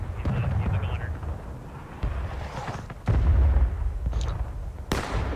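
Musket volleys from soldiers firing on a riverbank near Burnside's Bridge, heard as booming reports and low rumbles over battle noise, with a louder blast near the end and voices talking throughout.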